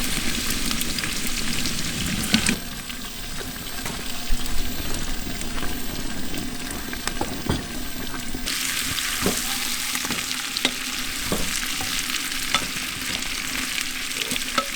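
Potatoes fry in a pan with a continuous loud sizzle, punctuated by stirring scrapes and occasional taps, and the hiss swells sharply partway through.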